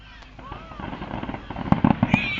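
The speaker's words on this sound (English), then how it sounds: "fireworks have begun!" Fireworks burst at an outdoor fireworks contest in Plymouth: a rapid, crackling string of sharp pops and booms that grows louder and denser toward the end, with excited spectators exclaiming over it.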